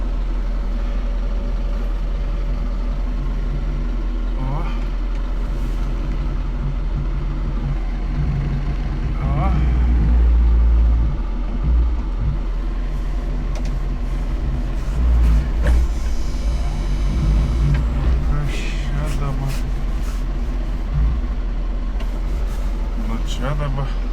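A car drives on a cold northern road with a steady, close low engine rumble and tyre roar. The drone is continuous, and people talk over it now and then.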